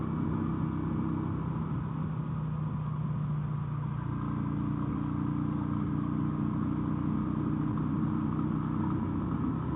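A V-twin motorcycle engine idles steadily with a low, throbbing rumble, the pitch shifting slightly partway through, with no voices.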